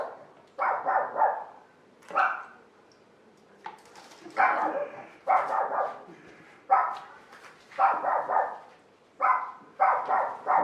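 Dogs bark repeatedly indoors in quick rhythmic clusters of two or three loud barks separated by short pauses, steady throughout and close by, with no one speaking.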